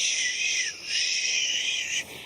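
A voice imitating Superman's flying whoosh makes a steady, breathy shh hiss like a sizzle cymbal, sustained for about two seconds with a slight dip midway, close and alone.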